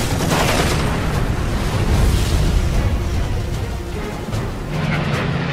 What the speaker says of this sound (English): Jim Howard strafes the area, breaking the airfield with machine gun fire